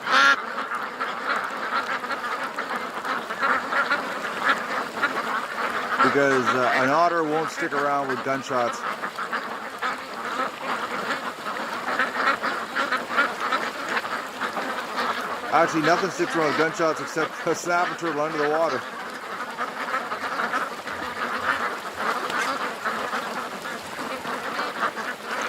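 Ducks quack and honk in loud bursts around a pond while someone talks at length over them, with quieter background calls between the louder outbursts.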